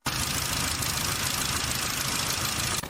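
A third-generation Volkswagen Audi EA888 engine runs normally, giving a steady, dense mechanical clatter and hum at close range that holds even for about three seconds before cutting off.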